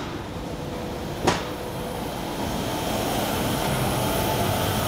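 Inside the hall of a Starrag Scharmann Ecospeed machining centre, whose parallel kinematic head carries a 120 kW, 30,000 RPM spindle, a loud steady mechanical roar runs throughout, with one brief sharp whine early on.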